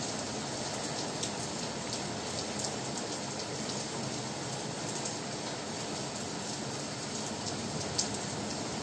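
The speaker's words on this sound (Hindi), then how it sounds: "तो देखिए दोस्तों बहुत अच्छी तरह से बारिश आ रही है" Steady rain pours down outdoors in a constant dense hiss that stays even throughout, with occasional sharper drips tapping nearby and no voices.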